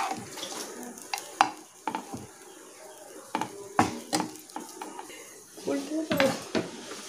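Spoon scraping and clinking against a pan as fried peanuts are mixed into semolina upma pulao, with irregular close knocks and stirring scrapes over a quiet background.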